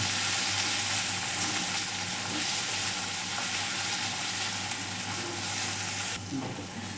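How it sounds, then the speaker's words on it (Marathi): Tomatoes stirred into hot onions in a pan for a chickpea and potato vegetable curry, sizzling steadily and fairly close, with a faint scrape of stirring and no talking. "आता त्याच्यामध्ये टमाटर टाकून घेऊ. टमाटर पण चांगले असे हलवून घेऊ."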